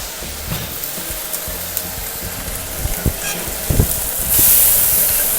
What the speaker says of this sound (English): And it must sizzle.